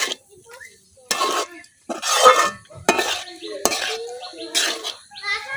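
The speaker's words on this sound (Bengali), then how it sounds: "নুডলসও রান্না করে নিতেছি, আর একটু ভাজলেই হয়ে যাবে নুডলস রান্না।" Noodles stirred and fried in a pan in a village kitchen, with a series of sharp scraping and clinking strokes of a utensil against the pan separated by quiet gaps, close and fairly loud.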